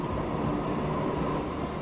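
A train pulls into a station in Transport Fever 2, giving a steady, dense rumble of rolling wheels and engine drone that holds constant and fairly loud throughout with no talk.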